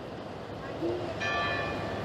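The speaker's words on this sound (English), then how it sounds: "Got the bell tower clanging away over there." A distant bell rings in a few soft strikes, faint over steady outdoor traffic and wind noise.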